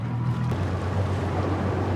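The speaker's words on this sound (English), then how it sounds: "Oh, the engine turns on." A fishing boat's engine runs during a bass fishing outing, a steady low droning hum with a slight shift in pitch partway through, heard alone and fairly loud without talk.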